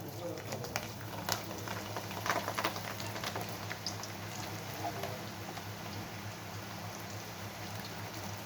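Ivy gourd pakodi frying in hot oil gives a steady, dense bubbling crackle with scattered pops throughout, close and fairly quiet, with no talking over it.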